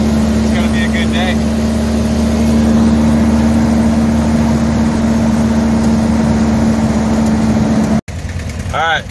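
A Baja Bug car engine runs steadily before a drag race, a close, constant droning hum with a brief break near the end.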